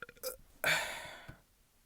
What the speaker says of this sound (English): Burp break.